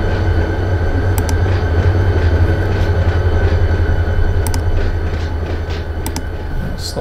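A train in a train simulator video game rumbles steadily with a deep continuous engine drone, rhythmic wheel clicks over rail joints recurring a few times, loud and close.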